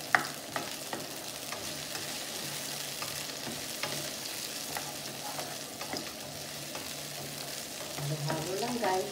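Onions fry in a pan for pinakbet, a steady moderate sizzle under regular stirring strokes and light scrapes, building a little louder near the end.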